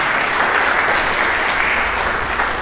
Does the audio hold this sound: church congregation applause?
yes